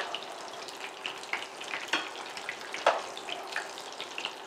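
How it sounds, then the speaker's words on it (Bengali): Sesame-coated prawns fry in a pan with a faint, steady sizzle and crackle, broken by occasional soft pops and tossing sounds. "তিলটা যেহেতু ফ্রাই হচ্ছে"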